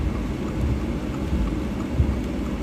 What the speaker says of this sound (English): The rain is really starting to dissipate where we're at right now.